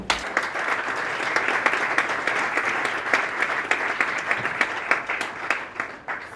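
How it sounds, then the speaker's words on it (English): Concert audience applauding after a performance by a mezzo-soprano, a sustained crowd of clapping with crisp individual claps standing out, moderately loud and continuous. "Give her a round of applause."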